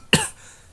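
One short, sharp cough in the visual novel Tsukihime, close and clear, followed by a faint fading tail.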